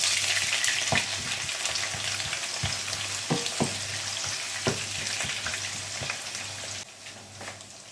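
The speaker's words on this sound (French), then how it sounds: "L'huile est chaude. Je mets mes oignons." Onions frying in hot oil in a pan, a steady close sizzle with occasional clicks and scrapes of stirring, no talking.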